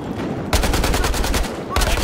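Rapid automatic gunfire in Battlefield Hardline, a loud sustained burst of close shots that stops briefly and then resumes.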